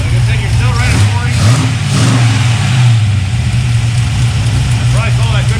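Henry J gasser engine running with Flowmaster exhausts and cutouts, a loud, steady, throaty rumble close by with slight rises in revs, people talking over it.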